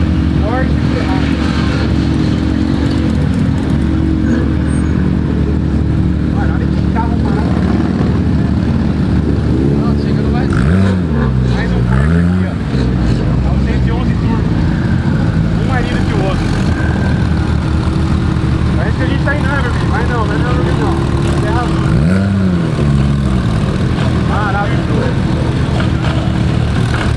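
Ferrari GT3 RS sports car engine roaring loudly and continuously, with a couple of rising and falling revs, heard alongside voices talking and background music.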